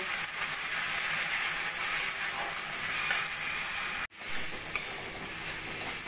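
Tomato and spice paste sautéing for mutton kosa, a continuous soft sizzle with light stirring scrapes, broken by a brief silent cut near the end before the frying resumes, close and moderately quiet, no talking.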